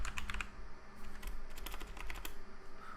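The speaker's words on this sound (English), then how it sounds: "Type in the IP address" Rapid clicking keystrokes on a computer keyboard while an IP address is entered into an SSH client to reach a Cisco switch, continuous, close and fairly quiet, with no voices.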